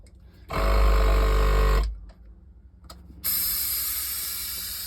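Pneumatic seat on a John Deere 4720 tractor cycling: a loud mechanical air-pump buzz for over a second, a brief quiet with clicks, then a steady hiss of air releasing that fades slowly, close up with no talk.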